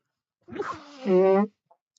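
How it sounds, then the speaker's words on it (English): A single close sneeze: a quick breathy intake followed by a sharp voiced burst, then silence. "I could actually sneeze that time."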